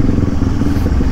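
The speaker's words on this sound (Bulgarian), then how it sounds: "Те, това е мотор." A motorcycle engine runs loud and close at a steady idle, with a continuous low rumble and mechanical clatter on a rural road in northwestern Bulgaria, and no voices.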